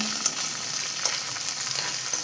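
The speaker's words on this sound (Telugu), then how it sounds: "అది మంచిగా సిమ్లో పెట్టుకొని అది ఉడికే వరకు మంచిగా వేయించుకోవాలండి" Onions frying on low heat in a pan, a steady close sizzle with soft crackles throughout, no voices.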